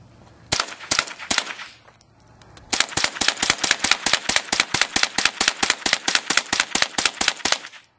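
Ruger 10/22 rifle fired outdoors: a few quick sharp cracks, a short pause, then a long, rapid, evenly spaced string of close, loud shots.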